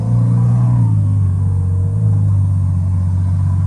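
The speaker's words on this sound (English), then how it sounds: "So with the valve off, the idle is much louder." A Ferrari F12 Berlinetta V12 idles with its exhaust valve closed, a steady, loud, deep engine rumble holding evenly throughout with no talk over it.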